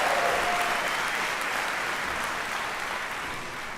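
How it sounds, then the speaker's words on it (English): Graduating medical students of the Morehouse School of Medicine class of 2024 applaud at their spring commencement, a broad, sustained roar of many hands from a large crowd that slowly tapers. "Give yourselves a round of applause."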